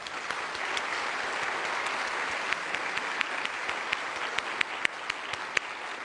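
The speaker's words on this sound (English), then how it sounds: "So I want to give a round of applause to Johnson here." An audience at a NASA event at Johnson Space Center applauds, a dense, steady clapping from a crowd in a hall with a few sharper individual claps near the end.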